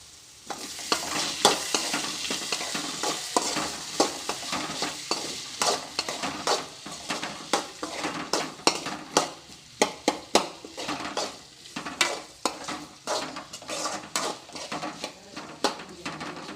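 Potatoes frying in a pan for curry: a continuous sizzle runs throughout while a spoon scrapes and stirs in quick, irregular strokes, close and fairly quiet.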